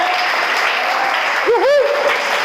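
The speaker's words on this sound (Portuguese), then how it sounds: "Aplauda o Senhor mais forte que você puder." A church congregation at a youth service applauds loudly and steadily, with a voice briefly cheering or calling out over the dense clapping.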